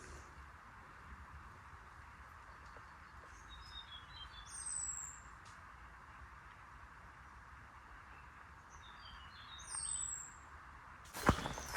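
At Vardhangad Fort in Satara, Maharashtra, faint bird chirps come and go over steady outdoor ambience, with a couple of brief high calls and a sharp knock near the end.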